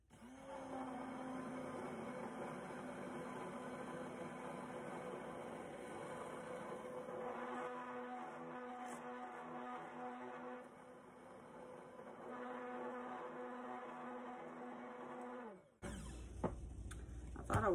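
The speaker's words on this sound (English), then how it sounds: "Put my immersion blender in there all the way to the bottom." An immersion blender whirs steadily inside a narrow jar of homemade ranch dressing made with almond milk, a close motor whine that wavers in pitch as it mixes, then cuts off abruptly near the end.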